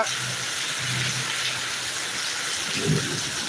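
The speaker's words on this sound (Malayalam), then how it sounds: "നല്ല ഇടിയുണ്ട് കേട്ടോ ഇടിയുടെ ശബ്ദം നല്ല ഇടിയുണ്ട് കേട്ടോ" Heavy rain pours steadily in Attingal, Thiruvananthapuram, a dense continuous hiss, with low rumbles of thunder rolling near the start and a stronger burst near the end.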